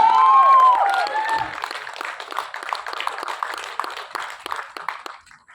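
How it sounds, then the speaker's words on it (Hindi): An audience at the Mumbai launch of the Jaat movie trailer gives a bright whistle and cheer, then a round of scattered applause that thins and fades away. "जोरदार तालियां for this man"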